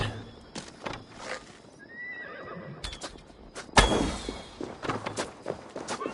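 Horses whinny and snort several times over hoofbeats and thuds, with sharp impacts and clatter breaking in partway through, in Assassin's Creed Valhalla.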